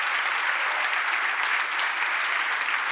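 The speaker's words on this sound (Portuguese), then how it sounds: "Vamos aplaudir a Deus" A church congregation claps together in steady, dense applause that holds at an even level throughout, with no distinct voices.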